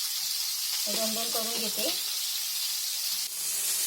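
Crab fries on a hot tawa with a constant, loud sizzling hiss, and brief speech rises over it in the middle.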